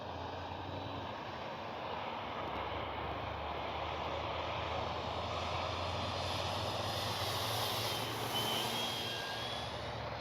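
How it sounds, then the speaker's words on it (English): A radio-controlled Flightline F4U Corsair model airplane flies overhead, its engine a steady, continuous drone lasting several seconds and swelling slightly toward the end, heard alone without talk. "Man, what a beautiful plane."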